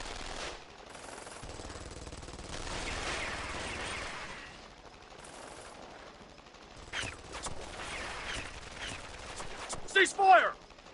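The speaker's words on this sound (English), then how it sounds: "Open fire!" Gunfire volley in a Guilty Gear Strive cutscene: a sustained rattle of shots runs for several seconds and builds to sharper, louder bursts near the end, mixed with voices and other cutscene sound.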